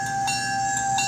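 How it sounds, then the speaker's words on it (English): Bell sound effect from a 1950s-era American Flyer model train engine running on a Rail Pro LM-3S control, a steady ringing tone with two brief strikes, close and clear with no talking. "And we have lighting, we have the bell."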